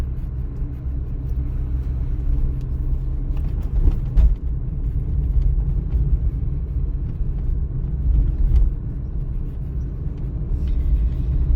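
Steady low road rumble of a car driving along a city street during a driving exam, with a continuous engine and tyre drone and a few faint bumps, no talk.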